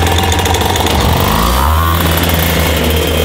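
A TM-brand racing kart engine of just under 50 horsepower runs loud and close, a steady buzzing two-stroke drone that wavers slightly in pitch throughout, with no one talking.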